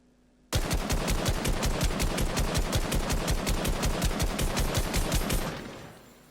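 An assault rifle fires in Fortnite, about thirty rapid, evenly spaced shots in one loud, sustained automatic burst lasting roughly five seconds, then a short fading tail.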